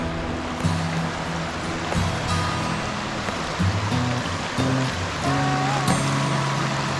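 Creek water rushing past a boulder near a campsite at Blackwater Falls, a steady broadband wash that stays constant throughout, with faint low tonal rumbles underneath.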